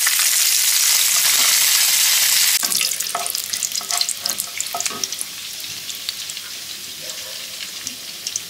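Cauliflower florets tipped into hot oil in a pan for Chinese-style chilli chicken: a loud, dense sizzle at first, then quieter frying broken by scraping stirs and spatula taps, with no voices.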